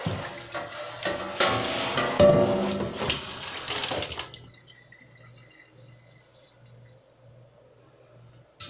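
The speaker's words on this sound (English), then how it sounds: "Get all the excess soap and water off." Tap water runs and splashes while soapy water is rinsed off a plastic Amiga 2000 computer case, loud and close for about four seconds, then cuts off to a quiet room with faint drips.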